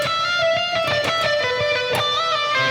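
An electric guitar plays a fast, loose lick from a solo, full of rapid trills, the notes bending and tumbling unevenly and out of time for a few seconds.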